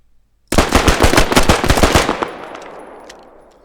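A 7.62 rifle fires in the video game Squad, a loud rapid burst of about a dozen close shots over a second and a half, followed by a long fading echo tail.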